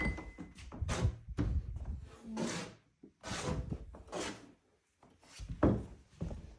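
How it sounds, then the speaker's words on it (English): A house door rubbing and scraping against its frame, with warped, loosening trim, gives a series of close wooden thunks and scrapes at an uneven pace, loud and alone without talk. "This door rubs."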